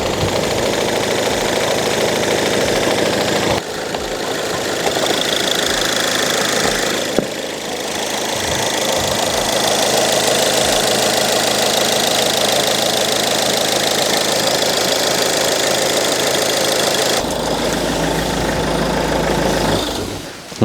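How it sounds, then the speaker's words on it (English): An old diesel car engine idles loudly and steadily close by, with a rough, knocking clatter that continues throughout, briefly shifting tone near the end. "the engine sounds really good. You know, it just sounds like a typical diesel."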